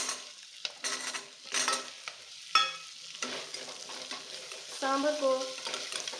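Pumpkin, coriander leaves and curry leaves fry in a pan for sambar, with a soft sizzle under spatula stirs and scrapes, and a burst of crackling near the end; someone speaks a few words.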